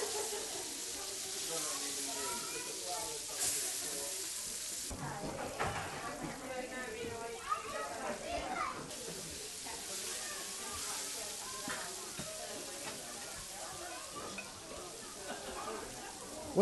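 Floured herring, silver darlings, fry in a pan with a steady sizzling hiss that runs continuously, while a person speaks over it throughout.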